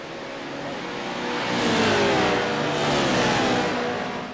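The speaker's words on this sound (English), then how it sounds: "You can hear the power of these engines as they roar right by you on that screen." Race cars roar past in a Watkins Glen race within a racing video game, a broad engine howl swelling to a peak and easing off as the pack passes, loud and unaccompanied.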